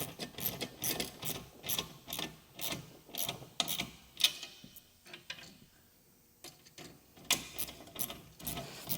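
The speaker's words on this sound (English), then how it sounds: "Use the Allen key here. Crank this down a little bit." Repeated ratcheting clicks from an Allen key cranking down a bolt on a side-mount utility ladder rack for an H2 Hummer, in short rhythmic bursts with a brief pause midway, close and moderately loud.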